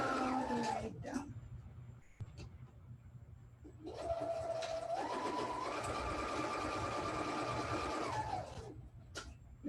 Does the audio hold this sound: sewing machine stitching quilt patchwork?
yes